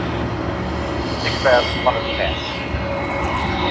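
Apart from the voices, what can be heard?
Air New Zealand aircraft taxiing at Sydney Airport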